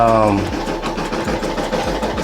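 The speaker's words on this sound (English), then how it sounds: "we got the SC600 stitching out our embroidery pattern" An SC600 embroidery machine stitches a pattern directly onto a T-shirt in a hoop, giving a fast, steady mechanical chatter with regular rhythmic thumps, close and fairly loud throughout.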